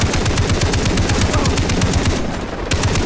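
A machine gun in the video game Far Cry 3 fires in a loud, continuous rapid burst, its evenly spaced shots hammering without a break for about three seconds.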